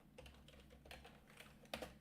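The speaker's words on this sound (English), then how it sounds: "I'll get a new keyboard, guys, that I can actually type on." Typing on a computer keyboard during a home grow live stream, a soft steady patter of key clicks with a few louder taps near the end, quiet and close with no talking.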